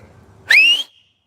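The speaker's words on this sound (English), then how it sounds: "So that's how I whistled." One short, loud, rising whistle from a person, bright and clear, lasting under half a second and fading right after in quiet surroundings.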